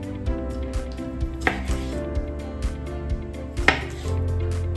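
A knife dices cherry tomatoes on a board, giving a handful of light, close chopping taps at an uneven pace over a steady musical background.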